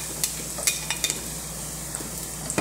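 Garlic and onion sizzle in hot oil in a pan, a soft continuous frying crackle broken by a few sharp pops and light stirring clicks, close and with no talk.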